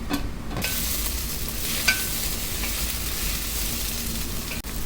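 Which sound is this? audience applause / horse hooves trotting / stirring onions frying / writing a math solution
stirring onions frying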